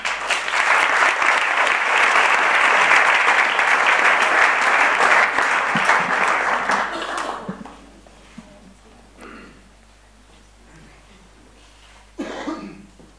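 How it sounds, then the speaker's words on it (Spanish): Audience applause at a live talk following a concert-style introduction, a loud sustained burst of clapping for about seven seconds that fades into quieter room noise with a few coughs and a brief later rustle. "un aplaudiment."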